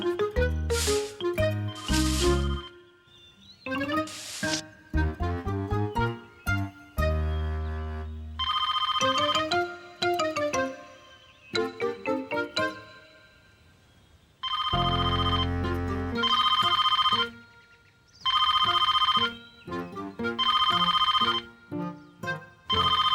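Cartoon telephone ringing amid bright, bouncy music in a children's animated show, the repeated tonal rings standing out loud and clear among playful melodic phrases with no talking.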